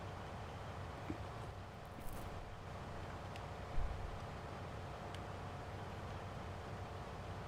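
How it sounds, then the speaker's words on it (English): An old John Deere diesel tractor idles in Farming Simulator 19, a low steady engine rumble ticking over evenly at moderate, quiet volume, with one brief louder thump partway through. "I love the way this old John Deere ticks over."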